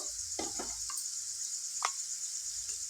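Chicken liver frying in a pan until golden brown, giving off a steady, hissing sizzle throughout, with a few soft clinks and scrapes of stirring near the start.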